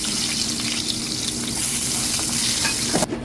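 Tomatoes fry in hot oil in a frying pan, a dense, loud, close sizzle throughout that cuts off with a final clatter.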